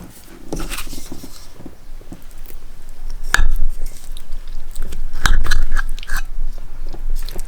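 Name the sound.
chewing while eating loco moco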